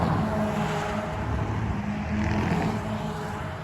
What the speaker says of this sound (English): It has a feature called N-Active Sound, which creates a simulated motor noise both inside and outside of the car.